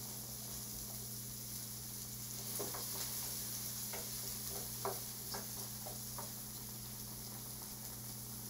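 Seasoning and a little oil get stirred in a sizzling pan, with soft scattered scrapes and ticks over a faint, steady hiss and hum, quiet and close.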